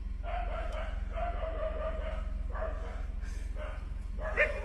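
A dog in Ethiopia barks in a series of repeated, moderately distant yelps over a steady low hum, with faint voices in the background.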